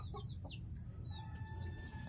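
A large rooster and several chickens cluck and call in short bursts over a steady low farmyard hum, fairly close and alone with no talking.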